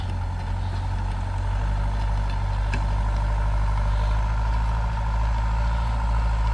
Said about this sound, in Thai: เสียงเครื่องคำรามสุดยอด